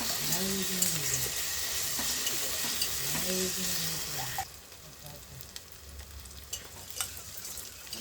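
A spatula stirs Telangana-style fish curry in a hot pan, with steady close sizzling and scraping. It settles into a quieter bubbling hiss after a few seconds, and a voice speaks briefly in the first half.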